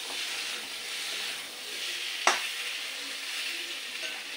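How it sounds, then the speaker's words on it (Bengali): Vegetables sauté with spices in a hot pan, giving a close, continuous hissing sizzle. A single sharp clack of a utensil cuts in midway, and no one speaks. "এগুলো একটু সুন্দর করে কষিয়ে নিতে হবে মশলার সাথে একটু"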